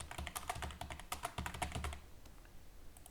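Fingers type data into a text field on a computer keyboard, producing a quick run of close, crisp key clicks that thin out and fade near the end, with no talking.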